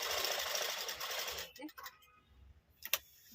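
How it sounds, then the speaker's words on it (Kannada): A sewing machine stitches a fall onto a saree, running fast and loud for about a second and a half before stopping, followed by a few quieter handling clicks and rustles. "ಸುಮ್ಮನೆ ಸ್ಟಿಚ್ ಮಾಡ್ಕೊಂಡು ಹೋಗ್ತಾ ಇರೋದು"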